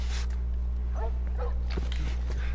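Dogs in the video game The Last of Us give a few short barks and whimpers, fairly faint and somewhat distant, over a steady low game hum, with no talking.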